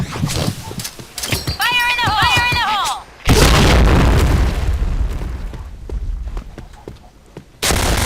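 Gunfire in a video game: an exchange of loud shots and heavy booming blasts sets in midway and continues behind excited voices, with a fresh burst right at the end.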